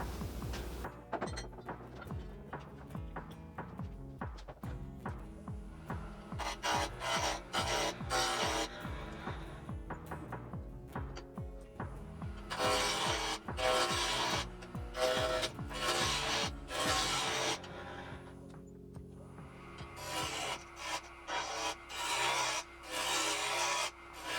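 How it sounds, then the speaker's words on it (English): A spindle roughing gouge cuts a spinning live oak blank on a wood lathe, producing bursts of rapid rhythmic chattering and rasping scrapes close up, pausing briefly between passes. "So let me grab a spindle roughing gouge and I'll bring it down to round."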